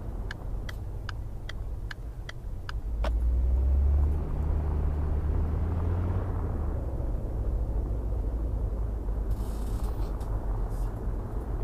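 Car pulling out and accelerating hard in first gear in a city driving simulator, its engine revving up into a loud, rising rumble that stays steady afterward, preceded by a few sharp ticking clicks.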